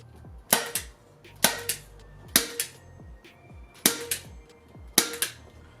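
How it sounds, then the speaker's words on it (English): A staple gun fires into upholstery fabric stretched over an ottoman cushion. Six sharp, loud snaps come in a steady rhythm, each followed by a fainter knock, with no speech. "you staple from the middle and then you work your way out."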